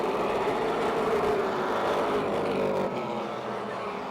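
Race cars roar around the Motordrome Speedway oval, one fishtailing out of turn 4 on cold tires; a loud, continuous engine drone holds steady before easing slightly in the final second.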